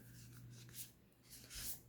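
Large oracle cards are shuffled by hand, producing soft, faint rubbing and sliding swishes in a few gentle waves against a quiet background hum.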